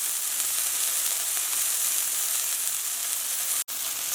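Chicken pieces for sesame chicken sizzle steadily in a hot pan, a dense, even crackle and hiss running throughout with a brief sharp break near the end.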